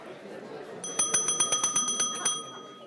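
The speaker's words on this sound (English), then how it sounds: "So glad I brought my bell." A bicycle bell rings in a rapid run of about ten bright metallic dings, close and clear, with a faint voice in the background.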